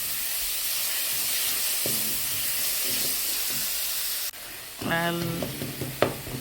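Onions frying in a pan for a wet fry pork dish give off a steady, close sizzle. A spoon clinks and stirs now and then, and a voice briefly speaks near the end.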